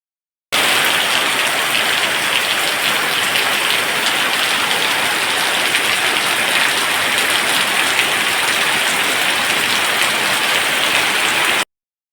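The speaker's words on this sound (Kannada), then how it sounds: "ಈಗ ಒಂದು ಜೋರು ಮಳೆ ಬಂದು ಬಿಟ್ಟಿತ್ತು ನೋಡಿ" Heavy rain falls onto a courtyard in a loud, steady, unbroken hiss that starts abruptly and holds at constant intensity until it cuts off.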